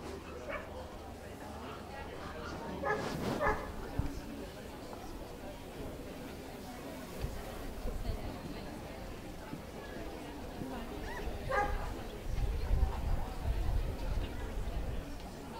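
Dogs at a championship dog show during toy-group judging bark and yip now and then over a busy indoor crowd murmur, with a few louder bursts of barking and an announcer's voice heard faintly in the hall.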